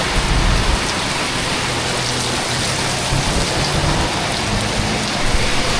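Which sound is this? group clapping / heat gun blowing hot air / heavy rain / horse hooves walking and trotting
heavy rain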